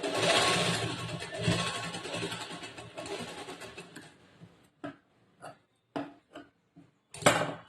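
An electric sewing machine stitches blouse fabric in a dense, continuous whir for about four seconds, then stops and restarts in a series of short, separate bursts.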